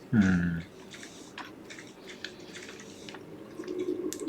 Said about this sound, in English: Gotta finish chewing too.